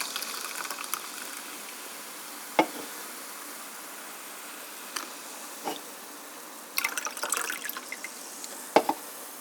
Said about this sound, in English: And you pour it into this glass.